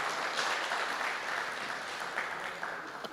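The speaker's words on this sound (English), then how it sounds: "I think we deserve a round of applause for that as well" Audience applause at a women's football strategy launch, a steady, fairly faint wash of clapping heard from a distance that holds evenly and tapers slightly at the end.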